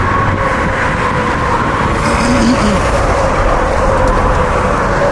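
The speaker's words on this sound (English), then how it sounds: "all this crazy noise of the cars coming" Steady, loud roar of road traffic beside a mountain trail on the Appalachian Trail, cars rushing past nearby in a continuous wash of engine and tire noise.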